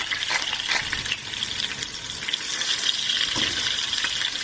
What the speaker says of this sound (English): We're going to start by frying our eggplants in some oil, just lightly frying them till they change color.